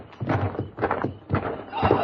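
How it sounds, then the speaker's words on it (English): Horses approach in a radio drama, their clip-clop hoof beats coming in uneven bursts of loud, close thuds with no one talking. "Listen. The horses, there's somebody out there."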